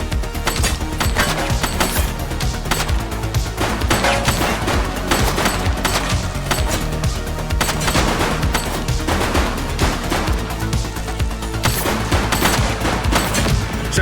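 Rapid gunfire fills the scene from a police action game, dense continuous bursts of many shots with loud, unbroken crackling and no pause.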